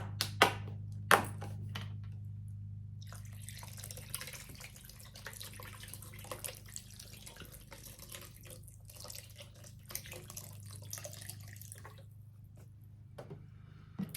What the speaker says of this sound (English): I'm also going to add almost an entire container of vegetable broth.